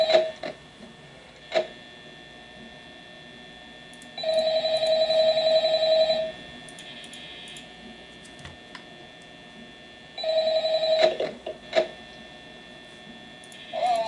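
A phone rings in the video game Five Nights at Freddy's, with two long, steady electronic ring tones several seconds apart over a quiet hum, with brief clicks and ticks between them.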